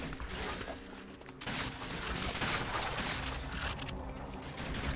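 Enemy machine gunners fire continuously in Call of Duty: Finest Hour on the Eastern Front, with loud dense bursts that fill the whole stretch and a short dip partway through.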